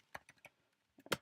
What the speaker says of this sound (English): And then I'm going to keep typing.